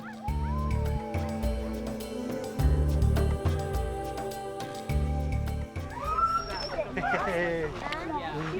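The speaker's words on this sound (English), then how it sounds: "the sled dogs they train." Sled dogs in the Arctic around Svalbard and Greenland yip and whimper in short, high, excited bursts near the end, after a stretch of steady background sound.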